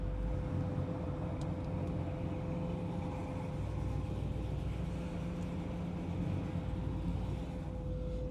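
A 1955 Chevrolet Bel Air fitted with a swapped LS engine idles steadily with a low, even rumble and a constant hum, no revving, and no voices over it.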